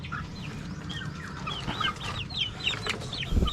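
Pullets and sweater-breed chickens cluck and chirp repeatedly in a backyard coop, several birds close by making a busy overlapping chatter throughout, with a brief rustle near the end.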